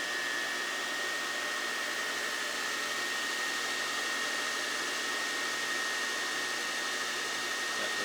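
A Myford MG12-CNC precision cylindrical grinder sparking out on a workpiece, giving a steady broadband hiss with a constant high whine throughout, close and unbroken, with no talk.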